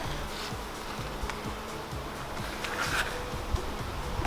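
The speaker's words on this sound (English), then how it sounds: "Hopefully the wasps will keep attacking that." Steady insect buzzing, several yellowjacket wasps droning close by at a beehive with faint rustling and a few soft knocks underneath.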